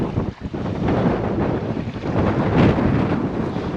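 Strong, cold wind with rain on the Taman coast roars steadily and loudly into the microphone, a dense gusting rush with buffeting bursts and no voices.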